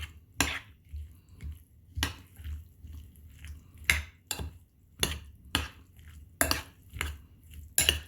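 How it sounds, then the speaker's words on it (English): A spoon clinks and scrapes against a bowl while pork tortilla filling is mixed with chopped chives, giving irregular sharp clacks and soft squishy stirring close by. "Gonna mix it again."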